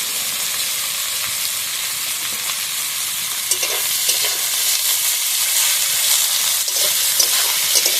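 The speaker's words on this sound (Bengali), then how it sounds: "তেলের মধ্যে দিয়ে দেবো কেটে রাখা পেঁয়াজ" Chopped onion and green chillies frying in hot oil for a spicy small-fish curry, giving a steady, loud broadband sizzle that runs throughout with small stirring crackles and no voices.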